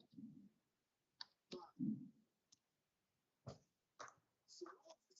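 Keyboard typing, a few quiet scattered clicks and keystroke bursts with pauses between them, alongside brief low murmured speech.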